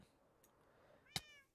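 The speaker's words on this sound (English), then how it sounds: "Is that a cat?" A cat in Minecraft gives one short, clear meow near the end, preceded by faint ambient game sound and a soft earlier chirp.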